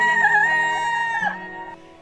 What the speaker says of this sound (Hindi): इधर मुर्गे ने कुकड़ू किया